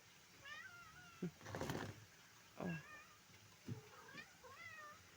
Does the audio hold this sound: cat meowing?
yes